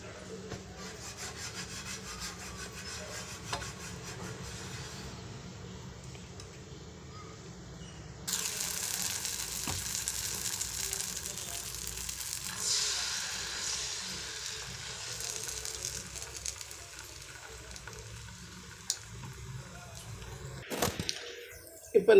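Wheat dosa batter cooks on a hot pan, giving a quiet hiss and scraping rub that grows louder and more sizzling partway through, with no talking.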